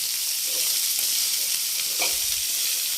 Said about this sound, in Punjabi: ਪਿਆਜ਼ ਦੇਵਾਂਗੇ ਤੇ ਇਹਨੂੰ ਆਪਾਂ ਨਾ ਐਂ ਹਲਾਈ ਚੱਲਾਂਗੇ ਇਸ ਤਰ੍ਹਾਂ